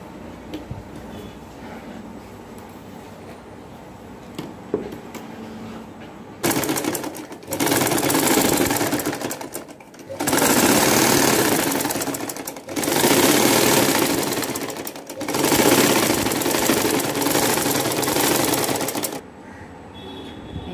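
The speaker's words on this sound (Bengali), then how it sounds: "তো এর জন্য আমি এই যে এখানে লম্বা করে একটা বড় বড় করে সেলাই করে দেব।" A sewing machine runs long gathering stitches on a baby yoke frock, with four loud bursts of rapid mechanical stitching separated by short pauses, after a quieter stretch of faint handling noise.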